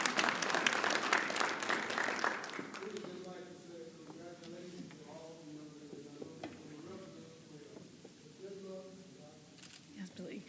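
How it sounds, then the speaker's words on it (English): Applause fills a city council meeting chamber for the first couple of seconds, then fades as murmuring voices and low room chatter take over. "Round of applause."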